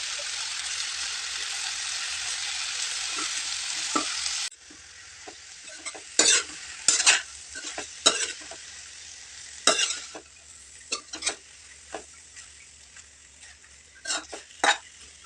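Spinach is stirred and turned in a hot pan: an even sizzle gives way to a quieter hiss punctuated by repeated scraping strokes of a spoon against the metal.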